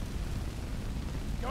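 A fire spell blast from the Skyrim video game, a dense, steady roaring rush of flame that fills the whole moment at close range without letting up.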